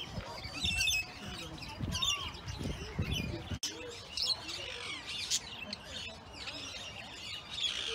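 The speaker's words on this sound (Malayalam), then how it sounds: "കോക്കറ്റിൽ എന്ന് പറഞ്ഞിട്ടുള്ള ഒരു ബേർഡാണ്." A cockatiel in an Australian aviary gives short chirps and squawks amid a busy bird background. Faint talk is heard.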